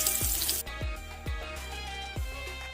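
Green tomato slices sizzle and crackle in hot oil for Southern fried green tomatoes, a steady close frying hiss broken by a few soft thumps and clunks, with no talking.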